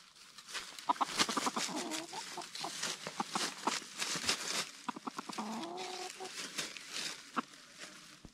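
Wild jungle fowl cluck in quick, clustered bursts, with sharper calls scattered among them, fairly close in a quiet outdoor setting.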